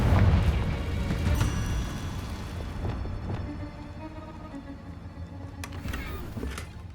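A Confringo spell blast goes off in the video game Hogwarts Legacy, a heavy low boom that rumbles and slowly fades, followed by faint debris clatter and a few small pops.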